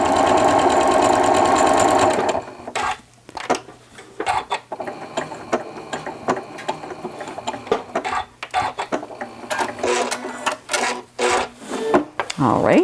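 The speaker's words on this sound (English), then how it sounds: "I'm reversing direction every line I stitch" Sewing machine stitching pleats and tucks in fabric, a steady high-pitched whir for the first two seconds, then stopping, followed by quieter rustling and handling of the cloth with a voice talking.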